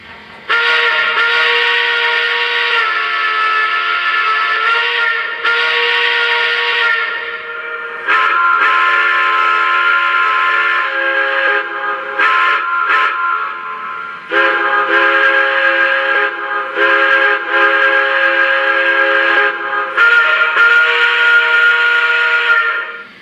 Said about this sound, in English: let's check out the whistle